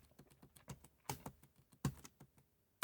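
Computer keyboard keys pressed one after another for a Pro Tools shortcut, a series of close, crisp clicks with irregular spacing and one sharper final tap.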